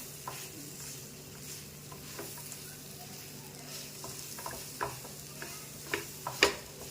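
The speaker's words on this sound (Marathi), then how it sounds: "मसाल्यामध्ये पूर्ण मिक्स करून एक 2 ते 3 मिनिटं ही पण परतून घ्यायची आहे आपल्याला" Coarsely ground moong dal being sautéed and stirred into a spice mix in a pan for kachori filling, a soft steady sizzle with occasional sharp scraping clicks from the spoon, close and alone.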